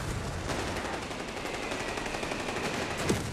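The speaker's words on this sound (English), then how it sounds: "MG34 opening fire against the mortar." An MG34 machine gun fires on a mortar in Company of Heroes 3, a dense rattle of rapid shots under a continuous wash of battlefield noise, with no clear gaps between rounds.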